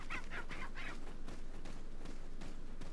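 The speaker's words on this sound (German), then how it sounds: "Hühner können auch gerne mal Eier droppen." Chickens in the Resident Evil 4 video game cluck in a quick series of four or five short calls, then quieter clucks continue over a steady game background hum, with no talking.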